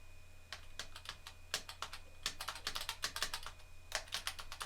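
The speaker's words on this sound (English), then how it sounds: "You can tell from the sounds, most likely, that this is a very heavy keyboard" Fingers clatter on a heavy ThinkPad laptop keyboard, with quick irregular bursts of close, crisp keystrokes over a faint steady hum while a Ms. Pac-Man game runs.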